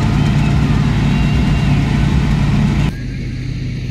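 A New Holland 3630 tractor in high gear pulls a straw reaper, giving a loud, steady engine and machinery drone close by that drops abruptly to a quieter hum near the end.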